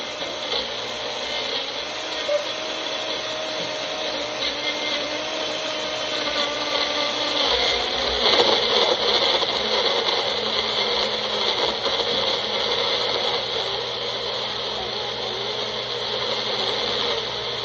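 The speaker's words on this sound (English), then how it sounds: "Now we need to blend it." A blender making a milkshake whirs steadily for a long stretch, its motor hum swelling briefly midway as the contents churn, with no voices.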